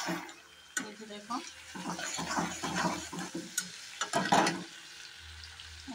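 Greens frying in a pan and being stirred: a series of scraping, sizzling bursts from the stirring, close and moderately loud, with a voice talking over part of it.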